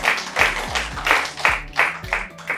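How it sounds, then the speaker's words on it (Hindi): Studio audience clapping in a series of bursts that rise and fade in a loose rhythm, with a few sharp louder claps and a low thump under them. "तो ऑडियंस इस बात पर भरपूर तालियां।"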